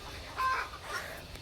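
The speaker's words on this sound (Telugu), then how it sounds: "మీకు కోళ్ళ సౌండ్ వస్తుంది కదా" Chickens near poultry sheds on a farm give a short, faint cluck over quiet outdoor background.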